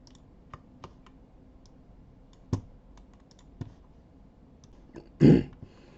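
A computer mouse clicks during After Effects editing: sparse, sharp single clicks sound at irregular intervals, close and crisp against a quiet room, with one louder rustling burst near the end and no voices.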